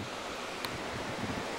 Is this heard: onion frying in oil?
no